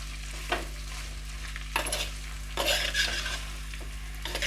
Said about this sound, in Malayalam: സവാള നന്നായി ഒന്ന് ഇളക്കി കൊടുക്കുക കേട്ടോ.